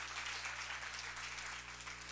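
A church congregation breaks into applause, a steady wash of many hands clapping together for a couple of seconds, mid-distance with a faint hum underneath.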